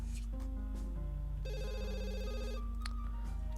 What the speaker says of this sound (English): Oh, you need to pick up the phone.